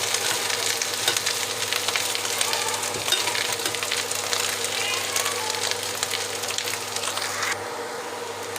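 Potatoes being stirred in a frying pan, a dense continuous sizzle and hiss filling the clip with soft scraping, steady and close, easing slightly near the end.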